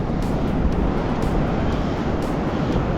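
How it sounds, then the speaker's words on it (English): Fishing drone flying out over the ocean off a Florida beach carrying shark baits, a steady loud motor drone blended with wind and surf and no pauses. "we're going to just run the baits out with the drone"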